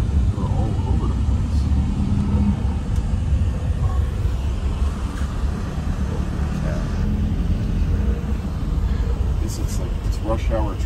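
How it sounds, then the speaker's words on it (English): Dense rush hour road traffic in Lapu-Lapu, Cebu, Philippines: a steady, loud rumble of cars and engines fills the whole stretch, with passing vehicles swelling and fading and a few faint higher whines near the end. "It's rush hour traffic."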